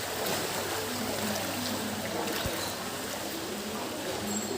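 Floodwater inside a rain-flooded house sloshes and trickles steadily, a faint, continuous watery wash close by, with a brief knock partway through.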